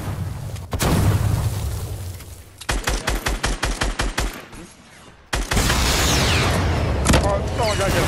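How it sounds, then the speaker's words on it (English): Fortnite egg launcher fire and blasts: a long burst of rapid, evenly spaced booming pops, with heavy explosive thumps before and after, loud and close amid busy game noise, with speech mixed in. "that's a fucking egg launcher"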